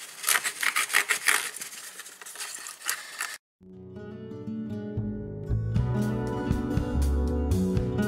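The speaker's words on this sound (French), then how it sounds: "je vais un peu déchirer les côtés pour que ce soit plus sympa" Paper card edges are torn and rubbed by hand in short rasping bursts, close and fairly quiet, followed by a stretch of louder, denser scraping and handling noise.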